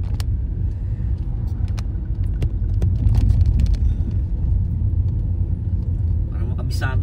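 A steady low engine and road rumble fills the cabin as a car drives through Manchester, UK, around nine in the morning, with a voice speaking over it and occasional light clicks.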